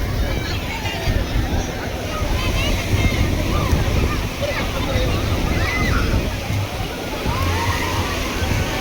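Sea waves wash continuously onto Panambur beach in Mangalore, a dense, steady roar of surf close by with crowd voices and chatter faintly mixed in throughout.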